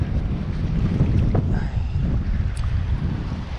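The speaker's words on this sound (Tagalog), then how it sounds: "Lumakas na yung hangin guys, sobra." Strong wind roars across the microphone out at sea aboard a small fishing boat off Occidental Mindoro, a loud continuous low rush that sounds near and steady with no talk.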